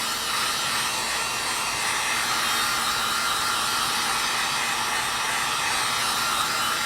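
A hair dryer blows on leather dye during a ripped-leather repair, its loud, steady whir running unbroken from start to finish with no talking.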